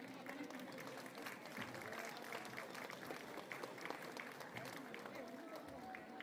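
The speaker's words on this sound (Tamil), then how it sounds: "பலத்த கரகோஷங்கள்" Audience applause in a hall at a Tamil Pongal celebration following a drama, a dense, even roar of many hands clapping from the crowd, steady and sustained, with some faint crowd murmur mixed in.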